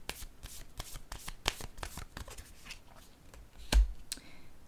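Tarot cards being shuffled by hand, a quick run of soft riffling flicks and slaps close up, with a sharper knock near the end and a brief pause before more light shuffling.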